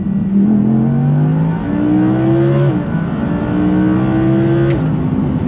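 Loud, close Audi R8 V10 Performance engine humming at high revs, around 3,500 to 4,000 RPM, rising in pitch through gear steps with brief dips between shifts.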